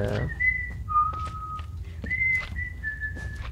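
A person whistles a short tune of sustained, clear notes stepping between pitches, close and fairly soft, over a faint low background rumble.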